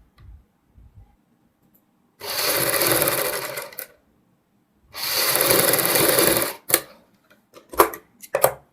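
A sewing machine stitches a seam on buckram for a boat neck kurti in two steady bursts of rapid whirring, each about two seconds, with light handling clicks and rustles between and after.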